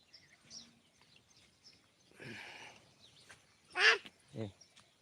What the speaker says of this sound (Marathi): तुम्ही शांत बसला तर मस्त पाखरांचा आवाज येतो